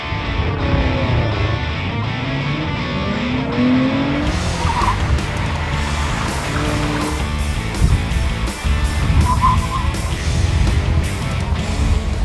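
Sports cars racing at an SCCA club event, engines roaring close by while tires squeal and skid repeatedly through corners, with several cars passing in quick succession.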